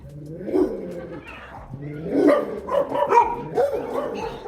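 Dogs bark and yip in irregular bursts, with a couple of louder barks and some whimpering sounds in between, fairly close.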